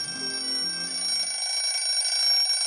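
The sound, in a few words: alarm clock ringing in the morning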